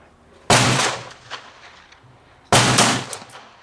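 Two loud, close revolver shots about two seconds apart from a .38 Colt New Police firing handloads of Lyman Power Pistol powder behind 213-grain bullets, each with a sharp crack and a short decaying echo.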